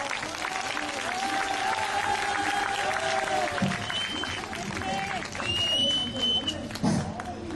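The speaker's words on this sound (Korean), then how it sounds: "목사님 나오실 때 뜨거운 박수로 맞이해 주시기 바랍니다." Applause from an outdoor crowd at a Christmas Eve rally in front of Daehanmun, Seoul, welcoming a pastor, moderately distant and mixed with voices and street noise, with whistle-like tones drifting above.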